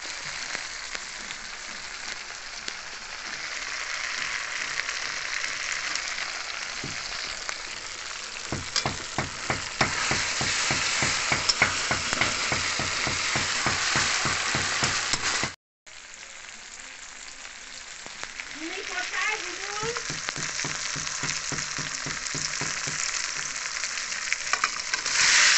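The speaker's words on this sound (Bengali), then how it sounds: "মশলাটা কষিয়ে নিচ্ছি" Spice paste sautés in a pan with a steady close sizzle, rhythmic stirring scrapes in the middle, a brief cut to silence, then frying resumes with a few clinks.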